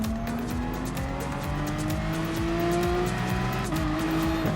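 Race car engine in the Gran Turismo Sport video game, loud and continuous, revving and shifting through gears against the competing whine of a Porsche 911 and other cars nearby.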